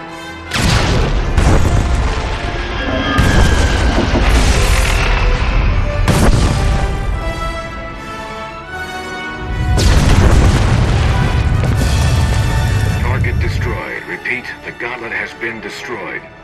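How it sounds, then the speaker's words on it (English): A massive detonation in Star Wars: The Old Republic, deep booming blasts rolling out in several heavy waves with rumbling tails, mixed with game music and voices. "Proceed with the detonation."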